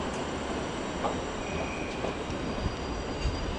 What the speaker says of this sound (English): now this train is leaving for Guildford